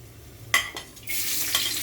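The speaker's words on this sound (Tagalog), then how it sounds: "Inuna ko po ang bawang. Gusto ko mapula-pula yung ating bawang." Chopped garlic frying in a pan for a noodle dish: a couple of quick stirring scrapes, then a steady, close sizzle that swells and holds to the end.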